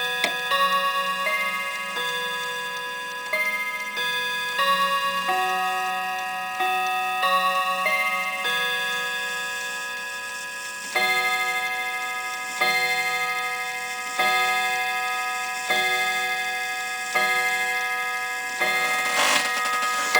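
Tymo mantle clock with a German movement chiming a long melodic sequence of clear ringing tones, each decaying before the next, close and loud with no talk.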